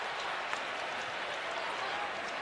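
Steady, dense crowd noise filling a basketball arena during a Houston Cougars versus Duke Blue Devils men's college game: broad cheering and applause that holds at an even level throughout, with no clear break.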